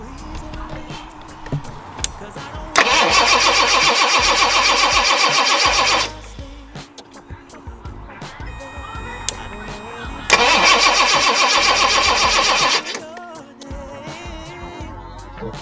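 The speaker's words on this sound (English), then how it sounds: "Let's see if we get a little bit of spray when I start the car." A Jaguar XJ6 engine cranks and starts twice, each time a loud grinding whir lasting a few seconds before settling, with people talking in between.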